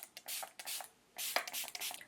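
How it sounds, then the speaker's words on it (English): Makeup setting spray misted from a pump bottle onto a face, a series of short close hissing bursts, several quick pumps then a longer run of sprays, with no talking. "Last thing is setting spray."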